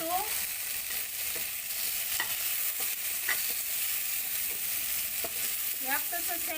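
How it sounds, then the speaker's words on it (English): Tomato sautéing in a pan with garlic for Filipino chicken curry, a soft steady sizzle with occasional stirring scrapes and taps, fairly quiet and without talk. "We have to saute until the tomato becomes soft."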